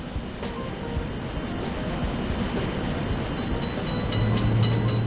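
Train rolling past a railroad crossing in a simulator game, steady low rumble and clatter of wheels, growing slightly louder toward the end.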